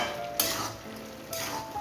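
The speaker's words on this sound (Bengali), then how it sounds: "এবার নেড়ে চেড়ে মিশিয়ে নেব আর জলটা শুকিয়ে আসা পর্যন্ত অপেক্ষা করব।" Bottle gourd stems cook in a pan with a soft simmering sizzle, broken by two distinct scraping stirs of a spatula against the pan.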